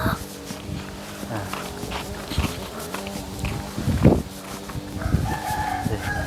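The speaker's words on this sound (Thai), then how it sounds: "อันนี้เป็นมุมไก่เลยพี่น้องเด้อเนาะ" Chickens cluck and a rooster crows in the corner of a backyard chicken coop at a rural house under construction, with the birds calling steadily throughout and a louder crow near the middle over faint background noise.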